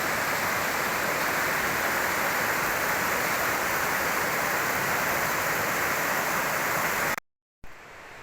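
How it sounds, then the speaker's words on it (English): Loud, steady roar of a swollen river's rushing white water in winter woodland, broadband and continuous, cutting out briefly near the end before resuming. "There's a lot of currents, water and a lot of white water moving."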